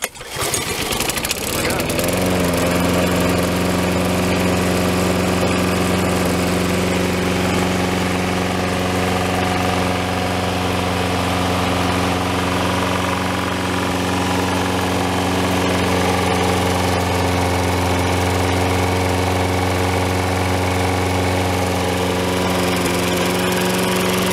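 A small lawn mower engine catches after a brief pull and settles into a loud, steady running drone with a rough mechanical vibration that holds throughout.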